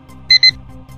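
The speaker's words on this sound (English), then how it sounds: "Each time that limit is exceeded, the app will also beep to alert you." Beep alert from the app for a DJI-mounted U10 methane sensor: two short electronic beeps in quick succession, loud and close over a low background hum.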